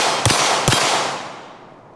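Two sharp, close pistol shots about half a second apart, each a loud crack with a brief ringing tail that fades out, heard alone without talk.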